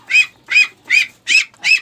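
Female duck giving five loud, evenly spaced quacks close by, each harsh and nasal, with no talking over them.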